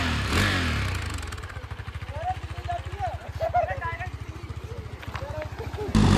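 A Kawasaki H2R motorcycle engine idles with a rapid, throbbing putter that rises and falls as it revs, close by, while voices talk over it; smoke is coming from the bike after a crash in water.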